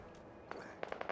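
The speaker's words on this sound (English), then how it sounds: "Here's some gunfire." Gunfire crackles in the video game Fallout 4: several quick, sharp pops in a short irregular burst, fairly faint and distant over a low background hiss.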